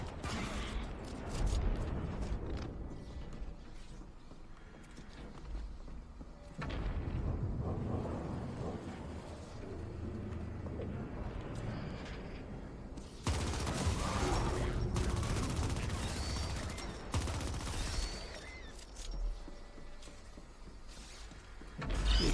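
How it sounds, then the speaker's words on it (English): Repeated booming blasts and rumbles from the video game The Ascent, loud explosion bursts recurring over a continuous mix of gunfire and effects. "The explosions are satisfying."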